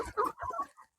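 Chickens on a small egg-laying farm cluck in a few close, choppy bursts, with some clucks overlapping and a brief pause at the end.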